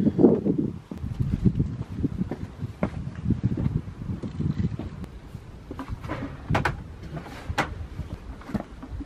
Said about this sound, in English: it's pretty windy, so hopefully you can still hear me all good